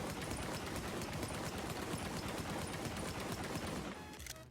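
Sustained rapid automatic gunfire empties a full magazine in The Division video game, a dense unbroken stream of loud shots that stops abruptly near the end.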